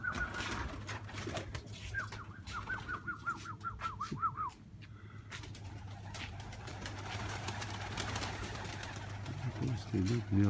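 Pigeons in a loft during their moult, some of them marbled birds, coo and call in a short warbling run amid steady loft noise, with a person talking faintly in the background.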